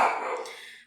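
A dog close by barks loudly in a short burst, nervous about a cat in the yard, tapering off within a second, with no one speaking.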